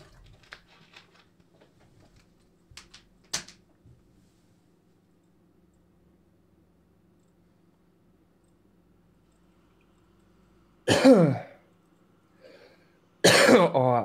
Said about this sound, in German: mein Husten fickt richtig